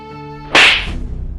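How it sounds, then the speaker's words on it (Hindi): One sharp, loud slap to the face cracks out midway after a quiet tonal background, followed by a short ringing decay. "क्यों थप्पड़ मार रही हैं?"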